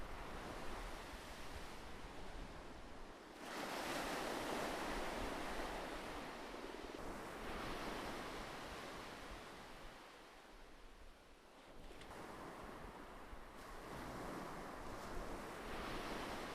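Waves lap and wash against a beach shore, with broad surging swells that rise and recede every few seconds, with wind noise underneath.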